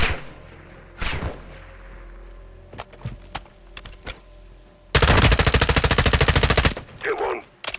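Long sustained machine gun burst in the Modern Warfare II campaign mission Recon by Fire, loud and rapid for about two seconds, preceded by scattered single shots and clanks and followed by a few more thuds.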